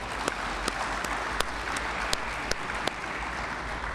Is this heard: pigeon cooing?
no